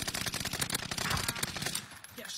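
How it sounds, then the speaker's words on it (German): Rapid gunfire in a video game, a dense, fast burst of shots that crackles steadily and fairly faintly for about two seconds. "Der Schuss hat voll gesetzt."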